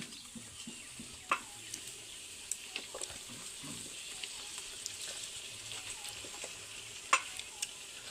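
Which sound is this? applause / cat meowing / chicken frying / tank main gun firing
chicken frying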